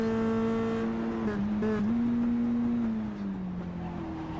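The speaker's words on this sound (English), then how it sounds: "that's the sound of a very expensive metal breaking apart" A racing game car's sustained engine drone with shifting pitch, a rough grinding break partway through as a missed downshift wrecks the gearbox, then the engine carrying on steadily.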